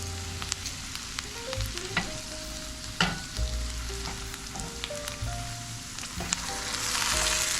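Garden vegetables sizzle steadily in a pan with a continuous crackling hiss, and a spoon occasionally clinks and scrapes as they are stirred. No one is speaking.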